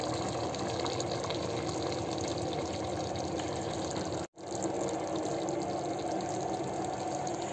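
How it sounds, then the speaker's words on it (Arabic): Thick date syrup pours in a steady continuous stream into a cooking pot while making Iraqi torshana, a dried-fruit dish, with one brief break midway; no talking. "هسه نضيف كوب دبس"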